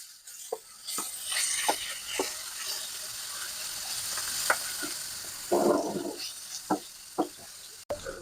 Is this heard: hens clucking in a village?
no